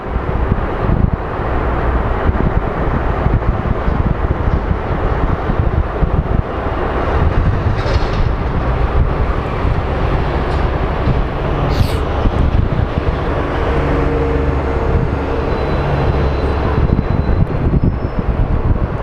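An Alaska Airlines jet in San Francisco Giants livery lands at Phoenix Sky Harbor, a loud, steady broadband engine roar with heavy wind buffeting on the microphone throughout.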